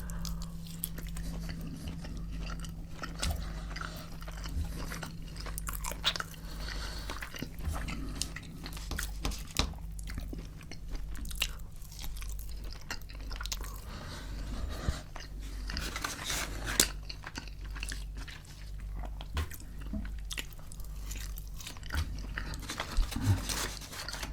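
Crunchy KFC fried chicken with chips and ketchup eaten up close, repeated crisp bites and wet chewing over a low steady hum, continuous throughout.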